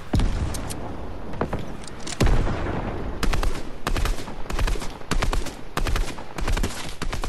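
Loud bursts of automatic gunfire spray in a video game shootout, the rapid shots arriving in repeated clusters with brief gaps and rocket-like thumps between them.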